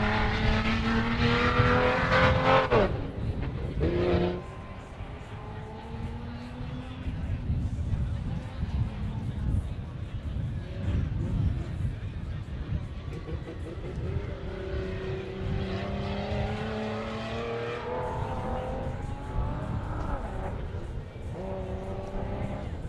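Off-road race truck number 4648 in the 4600 Pro Comp stock class launches at a 4 Wheel Parts Nitto National Championship qualifying run, its engine revving and roaring steadily throughout under continuous commentator talk.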